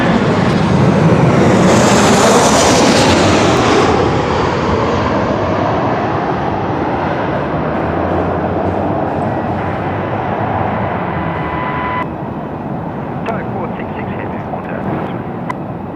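A Virgin Australia airliner, Velocity 680 arriving from Perth, roars past at Melbourne Airport with a loud, steady jet rush that swells early and then slowly fades over sixteen seconds, with voices talking over it.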